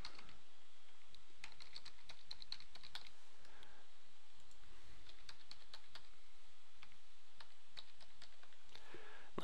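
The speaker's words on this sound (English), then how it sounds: "Let's type in where it's going to go." Typing on a computer keyboard while entering ASME pressure vessel design data, a steady run of close, crisp key clicks with brief pauses, no voices.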